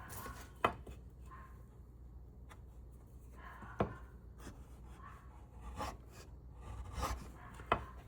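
A woodworking chisel scraped and tapped against wood to check its sharpness, with a few sharp knocks between quiet rasping strokes, close and fairly soft, no voices.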